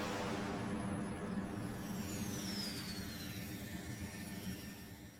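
The Batwing aircraft flying in the video game Batman Arkham Knight, a faint, steady jet-engine roar with a thin whine sweeping past midway, continuous and without talk.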